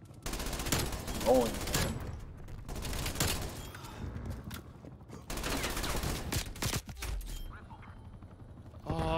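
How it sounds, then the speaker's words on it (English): An artillery strike called in during an online shooter match lands as a string of heavy, booming blasts mixed with bursts of gunfire. Someone speaks briefly over the loud, crowded battle noise. "Incoming artillery."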